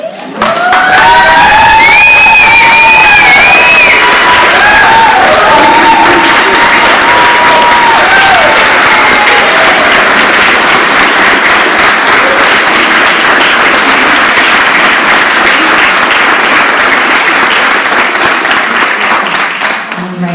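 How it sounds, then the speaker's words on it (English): Loud audience applause and cheering for standing teacher candidates at a new teacher induction ceremony, with shouts and whoops over dense clapping that continues steadily throughout. "we'd love to give you one last round of applause"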